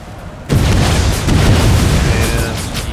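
Grenade explosions in the Empire: Total War video game, a sudden deep boom that opens into a sustained rumbling roar of battle noise lasting several seconds, loud and close.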